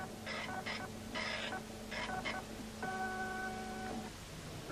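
A 1980s home computer printer works in bursts of buzzy mechanical chatter, several short printing passes followed by a steady beeping tone, heard close and without talk.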